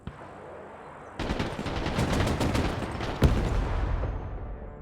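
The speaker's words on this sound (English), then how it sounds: "Finished off by the HMG." A heavy machine gun fires in the Broken Arrow video game, a rapid, loud stream of shots that starts abruptly after a low rumble and continues steadily, punctuated by one sharp heavier boom.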